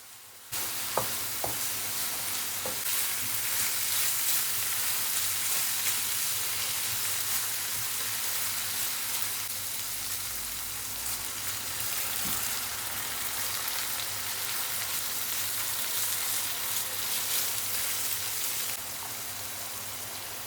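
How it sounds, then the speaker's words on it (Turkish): Tomato paste and spices sautéing in a pan, a steady loud sizzle running throughout with occasional stirring clicks, alone without voices. "Salçayı ve baharatları ekleyelim. Hafif kavurup 1 su bardağı su ile açalım arkadaşlar."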